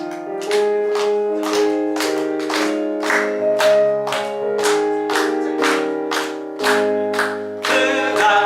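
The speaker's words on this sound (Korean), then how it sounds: "우리 박수 힘차게 치면서 우리 찬송하면서 전도에 우리 마음을 다지겠습니다." Congregation in a church clapping along while singing a hymn, with steady rhythmic claps roughly twice a second, loud and close, under sustained sung melody and organ-like chords.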